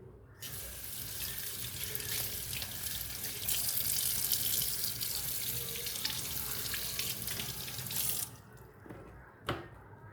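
Tap water running steadily over fish being washed in a sink, a loud continuous splashing rush that stops near the end, with a short clunk afterward.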